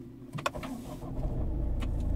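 Webasto parking heater starting on a Ford Mondeo Mk5: a couple of sharp clicks, then a low rumbling hum that builds and settles into a steady drone.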